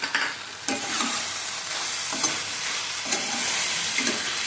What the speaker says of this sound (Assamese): নিমখ হালধি দি এনেকৈ লৰোৱাৰ পিছত অলপমান এনেকৈ লৰাই ল'ব